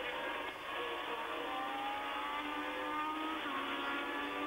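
A 1979 Ferrari Formula 1 car at the French Grand Prix at Dijon-Prenois climbs uphill at full throttle, its high-pitched engine screaming steadily with rising and falling harmonic tones.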